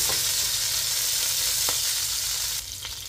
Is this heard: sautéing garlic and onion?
yes